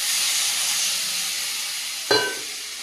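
Water splashes into a pan of well-fried potatoes, bursting into a sharp, loud sizzle that follows a steady background hiss of frying, then settles into bubbling steam.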